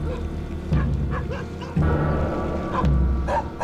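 Several dogs barking at night near Sukhbaatar, Mongolia: repeated yapping bursts at fairly close range, some whimpers and yips mixed in, over a steady background.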